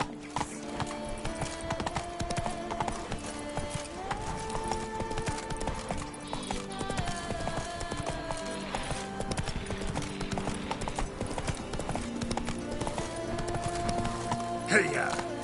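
Roach, the horse from The Witcher 3 video game, gallops with a steady, rapid clip-clop of hooves amid game music and ambient sound, with a brief whinny-like accent near the end.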